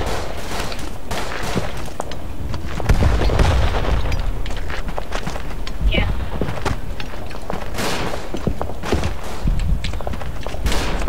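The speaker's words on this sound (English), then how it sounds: "Throw random grenades for no reason!" Grenade explosions and gunfire boom repeatedly through a noisy World War I battle in the game Verdun, thumping blasts layered with constant combat din and a voice talking over it.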